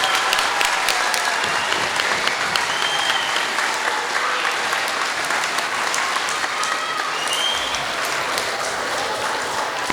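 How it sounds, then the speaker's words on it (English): A school gym audience at a middle school Veterans Day celebration claps for veterans, loud sustained applause from a large crowd with a faint murmur of voices underneath, steady throughout. "Let's give all our veterans a round of applause."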